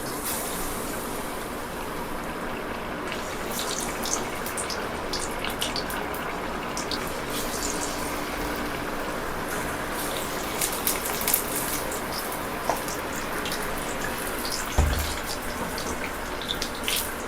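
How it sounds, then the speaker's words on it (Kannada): Batter-coated chillies for bajji sizzle in hot oil, a steady dense crackling hiss close by, with scattered louder pops throughout. "ಇದಕ್ಕೆ ಕೋಟ್ ಮಾಡಿಕೊಂಡಿರುವಂಥ ಮೆಣಸಿನಕಾಯಿಯನ್ನು ಈ ಎಣ್ಣೆಯಲ್ಲಿ ಬಿಡೋಣ"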